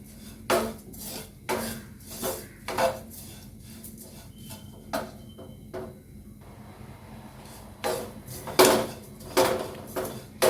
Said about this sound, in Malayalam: 1/2 ടീസ്പൂണ് കായത്തിൻ്റെ പൊടിയും ചേർത്ത് നന്നായിട്ടായിട്ട് മിക്സ് ചെയ്ത് കൊടുക്കാം